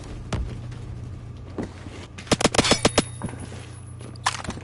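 A World War II era submachine gun fired in the video game Phantom Forces, a few isolated shots, then a rapid burst of about six reports and a final short burst, with no talking.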